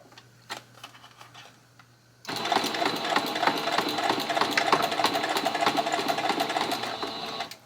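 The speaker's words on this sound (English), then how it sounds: "now I'm going to swing around and stitch that closed" A sewing machine runs steadily as it stitches a seam closed on old denim jeans, starting abruptly after a couple of seconds of quiet handling noises and continuing loud and close with a dense mechanical whir.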